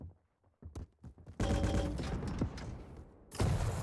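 Quick machine-gun bursts and scattered shots from a match in the arena shooter Quake at a pro-league event, starting sparse and faint and then swelling into a loud, dense clatter of fire, with no one talking.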